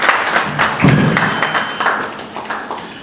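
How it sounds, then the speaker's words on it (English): Scattered clapping from an event audience in Lagos, a few sharp claps and thumps close by rather than a dense ovation, fading over about three seconds. "Please let's give her a round of applause."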